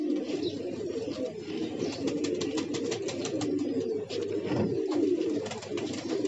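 Steady, low cooing from Aga-breed pigeons fills the clip, several birds overlapping in soft throaty rolls, with faint chirps and rustling in the background.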